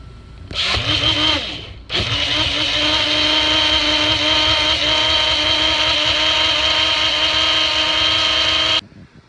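A mini blender whirs through a protein shake of Greek yogurt, cacao and water, starting with a short burst, a brief pause, then a loud, steady motor drone that runs for about seven seconds before cutting off.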